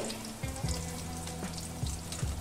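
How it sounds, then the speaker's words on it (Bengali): Raw banana (kachkola) kofta frying in oil over a medium-low gas flame, giving a soft continuous sizzle with a few faint low clinks, close and fairly quiet, and no talk. "আর গ্যাসের ফ্লেমটা মিডিয়াম টু লো রেখে কোফতাগুলি এখানে ভেজে নেব"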